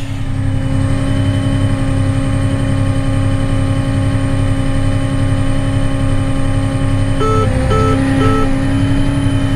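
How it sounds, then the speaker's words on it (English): An air compressor running loudly and steadily near a farm planter, a constant motor hum with a steady pulsing drone and a few short higher tones near the end. "Which turns the air compressor on."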